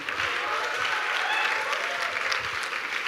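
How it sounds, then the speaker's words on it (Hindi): Audience applause for two guests at a session at IIT Delhi, a steady, fairly close roar of many hands clapping continuously from start to finish, with no talk over it. "एक बार दोनों के लिए दो जोरदार तालियां."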